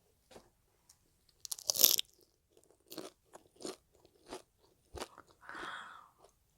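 Loud, close crunching of crispy fried shrimp heads, several distinct crackly bites and chews in bursts, with short quiet gaps between.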